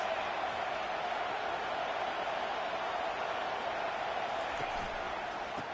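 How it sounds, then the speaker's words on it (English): Football stadium crowd at a South Carolina versus UCF game roars as a dense, steady wash of noise, loud and sustained with no breaks. "This crowd trying to make life miserable for this offense."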